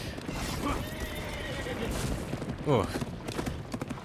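Horses in the combat game For Honor give a loud whinny over rapid clip-clopping hooves amid battle noise, with a voice talking over the action.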